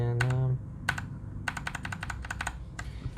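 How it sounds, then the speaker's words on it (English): Keys clatter on a Keychron K2 mechanical keyboard in quick bursts of crisp clicks, a few isolated strokes followed by faster runs of typing, close up and fairly quiet, with a brief low hum at the start. "So let's try to type some words over here, see how's the overall typing experience."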